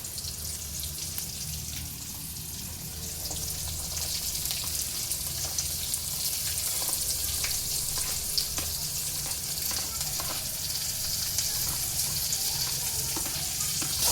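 Chillies, garlic and onion frying in a pan for chilli paneer give a steady, even sizzling hiss that runs throughout, with no one speaking.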